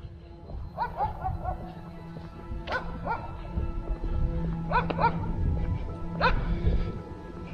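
A dog barks and yips in short bursts during a walk in the woods in Bosnia, about four clusters spread out over low outdoor rumble.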